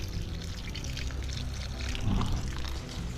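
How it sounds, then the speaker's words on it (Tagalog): Water runs from the tap of a newly installed kitchen sink, a steady, close rushing pour that swells slightly near the end, with no talking. "patry natin kay Inday kung totoo ba talaga yung lababo"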